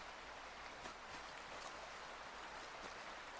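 In Red Dead Redemption 2, a clear snowmelt stream flows with a soft, even rushing hiss, steady and fairly quiet throughout with no voices.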